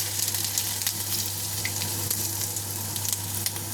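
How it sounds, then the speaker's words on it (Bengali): Whole cumin seeds and bay leaves frying in hot oil for a Bengali katla fish curry with potato, a dense, steady sizzle with crackling pops, close and continuous throughout. "দেখো জিরেটা কিন্তু আমার ভাজা হয়ে গেছে"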